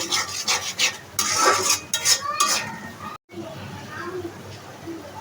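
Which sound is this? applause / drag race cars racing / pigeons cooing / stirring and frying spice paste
stirring and frying spice paste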